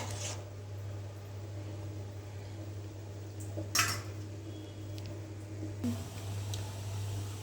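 Mochai kuzhambu, a field bean curry, being stirred in a cooking pot, with a few scattered scrapes and clinks of a ladle over a constant low mechanical hum.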